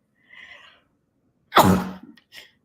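A single sharp sneeze bursts out after a soft breathy intake, followed by a brief quiet sound.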